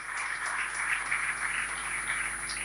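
Steady, dense applause from an audience honouring Dr. Jaswant Modi at a felicitation ceremony, a continuous even wash of clapping sustained across the whole moment without any talk over it.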